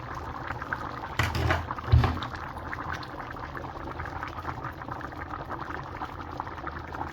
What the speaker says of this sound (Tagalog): Kumukulo na guys.